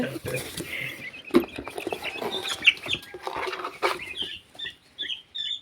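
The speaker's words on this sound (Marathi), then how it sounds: "हे ब्रह्माचे पक्षी आहे." Brahma chickens make scattered short clucks and squawks at close range, with a person talking over them in intermittent bursts.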